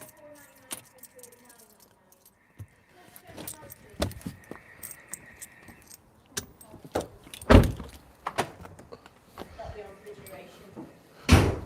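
A car door is opened and shut in a hurry amid jangling keys and rummaging for coins, with sharp thuds and a loud slam near the end, all close by and mixed with bits of talk.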